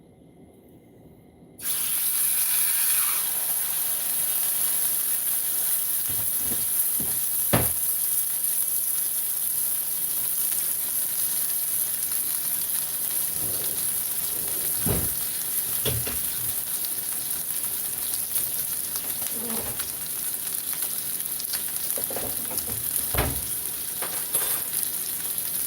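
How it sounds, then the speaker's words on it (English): An Angus roast sizzles in a hot, smoky skillet, a steady close hiss of frying throughout with occasional pops and crackles, no talking. "I'm going to make Angus roast. So I got a nice smoky skillet going right now."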